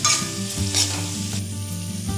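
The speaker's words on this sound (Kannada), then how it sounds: "ಹಸಿ ವಾಸನೆ ಹೋಗೋ ತನಕ ಸ್ವಲ್ಪ ಚೆನ್ನಾಗಿ ಫ್ರೈ ಮಾಡ್ತಿದ್ದೀನಿ" Ginger garlic paste fries in a pan, a close, dense sizzle with a couple of quick stirring scrapes over a short stretch, with no one speaking.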